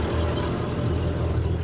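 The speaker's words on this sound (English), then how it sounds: "we're gonna do a brake test" A 1970 Chevelle SS slows during a brake test, a loud close rumble of engine and road under a thin high whine, with a steady, unbroken texture.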